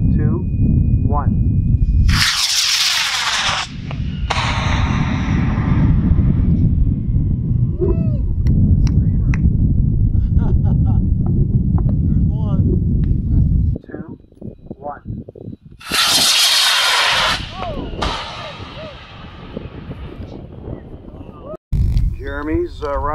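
A 3D-printed model rocket launching with a sharp whooshing burst of motor thrust, surrounded by outdoor crowd chatter and bursts of wind noise, with the roar cutting in abruptly twice.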